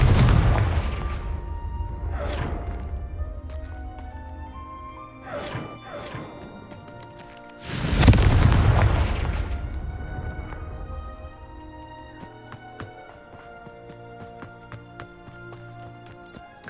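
Blasting spell explosions in Hogwarts Legacy boom with rumbling impacts, several heavy blasts in the first half and the biggest crash near the middle, followed by lingering debris and musical score.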